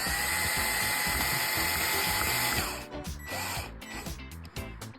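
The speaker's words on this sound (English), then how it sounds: "we still got 1 more screw to drill in" A power drill drives a screw while building a germination station and greenhouse, a loud, close, high whine running steadily before the motor stops and gives way to a few bumps and handling noises.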